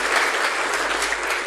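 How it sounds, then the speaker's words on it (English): Steady applause from an audience at a university first-year address by the Vice Chancellors, filling the whole moment with dense, even clapping and no voices standing out. "I want us to appreciate Midondo by giving him a round of applause"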